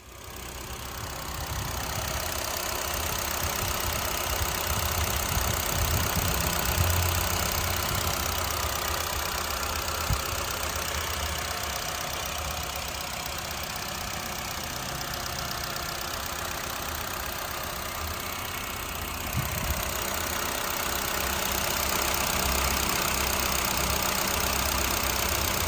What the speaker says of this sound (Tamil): இப்போ இந்த வண்டியோட இன்ஜின் சவுண்டை டேரெக்டாக மைக் இல்லாமல் டேரெக்டாக நம்ம ஃபோனை வச்சு ரெக்கார்ட் பண்ணி